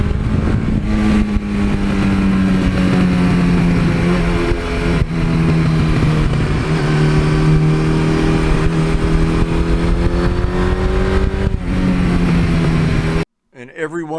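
A 1982 Suzuki GS1100E motorcycle on the move, its engine droning steadily with gentle rises and falls in pitch as it is ridden, loud and close throughout before cutting off abruptly near the end.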